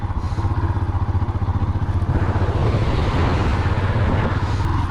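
Motorcycle engine revving steadily through a wheelie, then dropping as the rear brake brings the front wheel down, a loud, continuous rough drone close by with a slight rise partway through.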